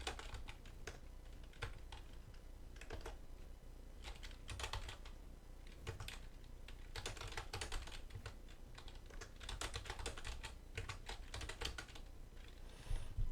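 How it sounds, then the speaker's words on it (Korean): Fingers type steadily on a computer keyboard while entering text into a spreadsheet, producing a continuous run of quick, fairly quiet key clicks with small bursts and pauses. "글씨 입력해 보겠습니다"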